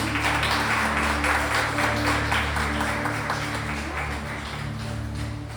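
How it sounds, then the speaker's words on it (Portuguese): A church congregation applauds the Lord during a Portuguese-language worship service, a steady wash of many hands clapping at close range that runs without a break, with a sustained low hum underneath. "Aplauda o Senhor, amém?"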